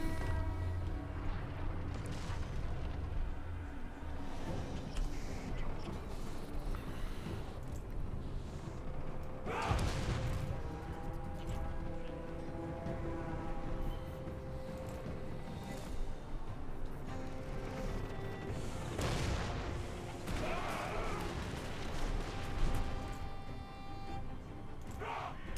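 Artillery fire on a Total War: Warhammer 3 battlefield, with heavy booms at about ten and nineteen seconds standing out from a dense, constant wash of battle noise and music.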